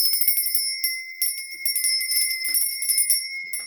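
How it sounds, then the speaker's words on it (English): A small bell is rung repeatedly, each bright metallic strike sustaining a clear ringing tone before the next, about a dozen quick hits in an uneven rhythm. "let's ring the bell"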